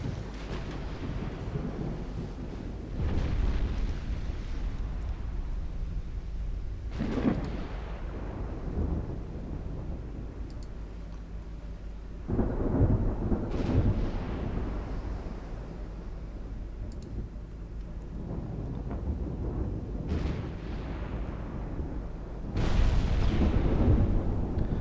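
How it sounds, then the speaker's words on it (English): Naval gunfire from cruisers hits a ship in the Ultimate Admiral Dreadnoughts game, deep booming blasts and rumbling impacts rolling in every few seconds over a constant low roar, with no talking. "Taking cruiser fire now."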